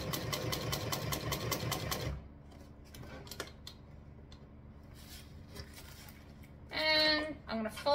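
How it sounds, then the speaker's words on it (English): A sewing machine is slowly hand-cranked through a bulky part of a handmade trifold wallet: a fast mechanical run at the start, then quieter irregular clicks and thumps, and another short stitching burst near the end. "Sometimes I just have to hand crank it just a little bit."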